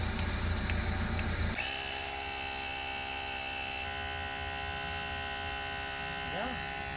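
A Resqtech electronic tire inflator pump starts up after a brief scuffling and runs with a loud, steady motorized drone and whine close by, humming continuously without pause.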